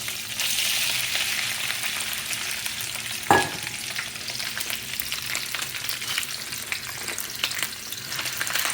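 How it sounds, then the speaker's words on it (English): Shrimp and garlic fry in hot oil with a dense, steady close sizzle, broken once by a sharp clack of a utensil against the pan. "So I'm going to add the shrimp, the oil."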